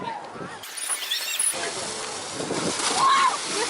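A person splashes into the ocean off a water slide on a pontoon, making a broad, rushing wash of water that swells loudly toward the end, with voices mixed in.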